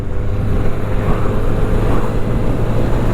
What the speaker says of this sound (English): the engine on here is absolutely lovely